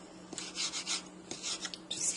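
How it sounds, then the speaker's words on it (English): A knife slices through rolled leaves into thin chiffonade strips, several soft quick rasping cuts in bursts, close and quiet with no talking. "I'm rolling them up longwise, and I'm trimming them small like this."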